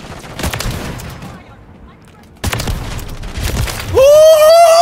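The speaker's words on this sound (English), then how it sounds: "Quad feed with the dual shotgun!" Dual shotguns blasting in a video game, loud booming shots in quick bursts separated by a brief lull, ending in a rising electronic tone; voices talk over the action.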